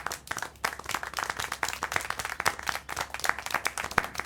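Rapid, close clapping from hands in Syberia: The World Before, a steady run of sharp claps with little else behind it.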